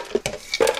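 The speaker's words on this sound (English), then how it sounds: "And I'll put in some frozen strawberries and ice." Frozen strawberries and ice dropping into a Vitamix A2500 Ascent blender jar, a few quick hard clunks and clatters in under a second, close and fairly quiet.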